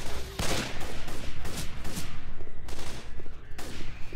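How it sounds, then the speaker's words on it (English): Assault rifle fire in the Left 4 Dead 2 hotel level, loud sustained bursts of rapid shots repeating across the whole stretch with only brief gaps. "Assault rifle."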